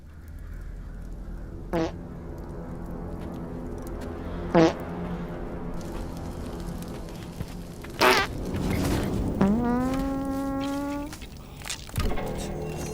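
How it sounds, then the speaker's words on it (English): A few short flatulent blasts with a drawn-out, pitch-bending fart near the middle, loud and close over a steady background hum, with no talking. "I farted."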